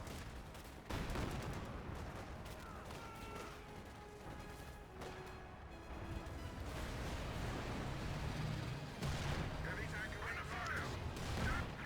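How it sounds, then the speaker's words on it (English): Rapid volleys of bazooka fire in Company of Heroes 2 crack out one after another over dense battlefield noise, with sustained rumbling explosions and scattered gunfire throughout. "6 bazookas shooting like that in quick succession"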